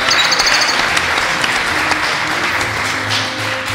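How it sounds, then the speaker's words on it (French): A live audience at a game show applauds the contestants, loud continuous clapping that holds for several seconds before thinning slightly at the end. "On peut les applaudir, hein."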